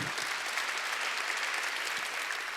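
A church congregation at an Easter Sunday service claps steadily in a dense, sustained round of applause that fills the room.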